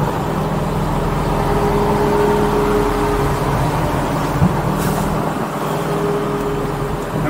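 A rally car drives with a steady, fairly loud engine drone and road rumble, heard from inside the cabin with no talk, the pitch shifting slightly as it goes.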